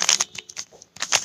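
A Rubik's cube is twisted and scrambled by hand, giving a quick series of close plastic clicks and scrapes in short irregular bursts with brief pauses between.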